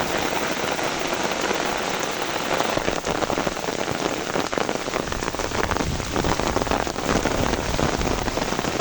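Heavy rain pours steadily on an outing while fishing, a dense continuous hiss of drops drumming on surfaces close by, loud and unbroken throughout with no voices.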